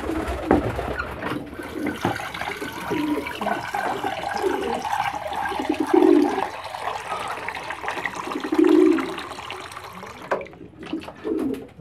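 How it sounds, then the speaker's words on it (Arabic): Water is poured into a Gruvit Plus medicine mixture for young pigeons, a continuous splashing rush heard nearby, with pigeons cooing loudly a couple of times in the background. "طيب نضيف عليه المية ونقدمه للحمام."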